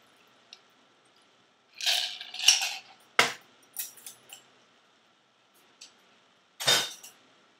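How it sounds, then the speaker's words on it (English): A cocktail strained through a metal tea strainer into a martini glass gives a few sharp, close clinks and rattles in small clusters, with quiet pauses between them. "And strain that with a tea strainer, obviously,"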